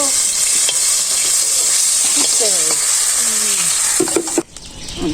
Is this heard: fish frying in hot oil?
yes